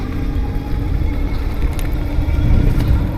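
Motorbike engine droning steadily while riding outdoors through town, a loud low rumble with wind noise, continuous and without talk.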